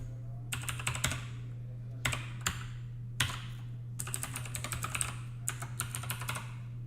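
An email address being typed on a computer keyboard, heard as close, quick bursts of key clicks in several rapid runs separated by short pauses, over a steady low electrical hum.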